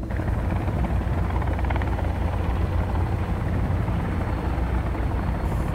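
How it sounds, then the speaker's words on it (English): A steady, loud helicopter drone with thumping rotor chop from the video game Sons of the Forest fills the whole stretch, constant and close, with no voices. "here we are in the helicopter"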